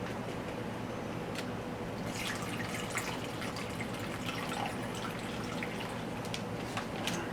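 Water trickles and drips steadily into a container, a continuous pouring wash at close range with small splashy accents, no voices.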